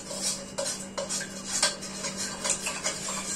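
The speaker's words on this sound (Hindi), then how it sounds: "अब ये करेंगे इसको मिक्स।" Thandai is stirred into milk in a vessel, with a utensil knocking against the sides in a loose, repeated rhythm of soft clinks and scrapes at close range.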